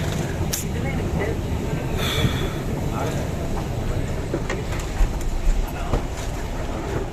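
A train rumbles steadily nearby with a constant low roar, a few faint clanks and squeals rising over the noise.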